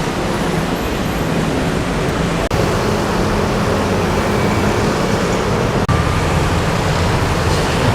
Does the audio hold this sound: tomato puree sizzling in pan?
no